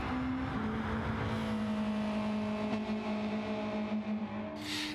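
Group 3 race car in Gran Turismo 7 at the Red Bull Ring, engine holding a steady high drone under full power down a straight, with a brief tonal shift and a burst of hiss near the end.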